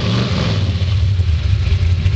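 Close and loud, a 327 V8 fitted to a 1926 Ford pickup hot rod rumbles and revs, a throbbing low burble with gentle throttle swells and no voices over it.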